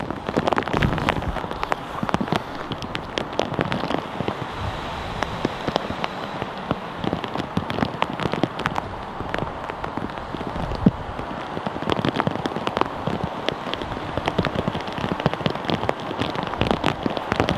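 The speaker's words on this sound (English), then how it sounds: "I don't know if you guys can hear that, but it is getting a bit rainy." Steady rain pattering on surfaces outside Manchester Airport, a continuous dense hiss with scattered drop impacts and light wind noise throughout, no talking.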